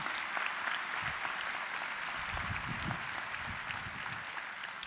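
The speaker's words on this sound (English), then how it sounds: "Ladies and gentlemen, let's give these individuals a round of applause." An audience applauds at a college of music graduation ceremony, with steady, full clapping sustained from start to finish.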